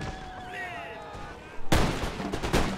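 Musket volleys from line infantry firing by rank in Empire Total War, a loud ragged burst of gunfire crashing in partway through after a quieter stretch of battlefield ambience with tonal game sound.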